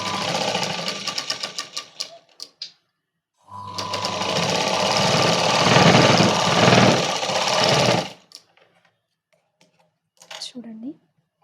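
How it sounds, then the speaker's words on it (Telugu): Sewing machine stitching a princess-cut blouse, a short burst of running stitches followed by a longer steady run of about four seconds, close and loud, with a brief quieter whir near the end. "మనం పైనుండి స్టిచ్ అనేది వేసుకోవాలి."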